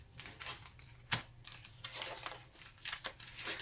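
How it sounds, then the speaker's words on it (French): Tarot cards being flipped over and slid on a table during a card reading, a run of close, crisp paper crinkles and soft snaps in quick succession with no talking. "on va retourner les cartes"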